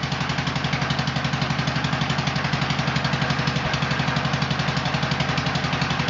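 A 1948 L engine, freshly fitted with new throttle shaft bushings, runs at a steady idle with an even, rapid pulsing beat, close and loud throughout.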